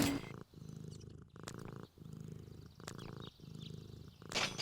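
A cat purring in the video game Deponia, a soft rhythmic rumble of repeated breaths in and out, close and alone.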